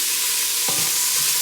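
Vegetables, including onions, cook in a soup pot for chicken gnocchi soup, a loud continuous sizzle with one spoon-stirring scrape partway through.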